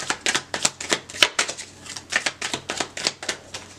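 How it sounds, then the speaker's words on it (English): Cards riffle and snap in a quick, rhythmic series of crisp bursts, close by and without talking. "One more shuffle, then I'll get it."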